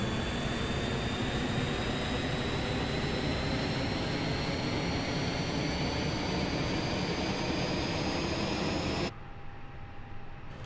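Airbus A320 jet engines in Microsoft Flight Simulator 2020 roar loud and steady at takeoff power with a rising whine on top, then cut abruptly to a quieter hum near the end.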